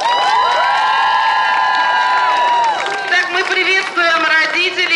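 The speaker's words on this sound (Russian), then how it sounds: "давайте подарим ей аплодисменты" Children cheering and applauding at a camp assembly, a loud crowd of young voices shouting and whooping in sustained unison over scattered clapping.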